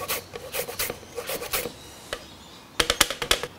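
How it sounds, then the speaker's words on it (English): Orange and lemon peel rasped against a zester or grater for a raw Christmas pudding, giving bursts of scratchy strokes in quick clusters, close and moderately loud with pauses between, no talking. "To that we're going to add some zest of one orange, one lemon as well"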